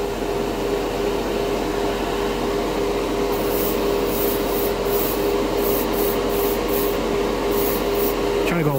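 An airbrush sprays mica pigment paint onto a white test piece in a constant, loud hiss of air with a low hum beneath, and brief bursts of added spray toward the end.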